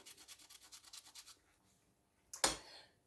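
A toothbrush scrubbing glue off broken porcelain, giving a quick series of about a dozen close, rhythmic bristly strokes, then a pause and one louder scrape.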